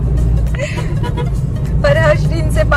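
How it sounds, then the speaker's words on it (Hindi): A car racing along the road toward Manali at around 100 km/h, with steady engine and road roar throughout, close and loud, while voices and chatter carry on over it. "इन्होंने जिस तरीके से अपनी गाड़ी 100 की स्पीड में दौड़ा के रखी है"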